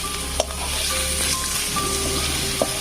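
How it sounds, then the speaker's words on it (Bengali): Sliced onions fry in hot mustard oil with a steady, close sizzle and crackle. Two light utensil taps come through as they are stirred. "এদিকে পেঁয়াজটি সুন্দর করে ভেজে নিচ্ছি।"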